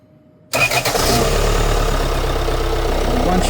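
A car engine is jump-started from a 3000A Gooloo A3 jump starter: silence, then a brief cranking churn that catches and settles into a loud, steady idle close by.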